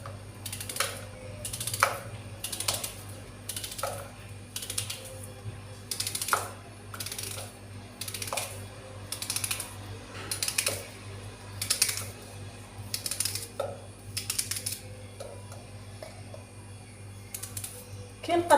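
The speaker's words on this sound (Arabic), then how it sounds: "نقطعوا البصله قطع صغيره هكا كما راكم تشوفوا" Regular knife strokes cut an onion into small pieces on a board, steady evenly spaced sharp taps continuing close by over a low background hum, with someone talking.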